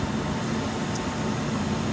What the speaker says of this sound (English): Now I run the compressed air back to the organic air dryer on my air compressor